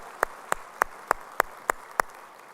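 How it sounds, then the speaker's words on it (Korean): A church congregation claps after a choir's hymn in seven crisp, evenly spaced claps in steady unison rhythm, fairly soft, with a quiet room between beats. "찬양 받으실 주님께 우리 영광의 박수 올려드리시겠습니다"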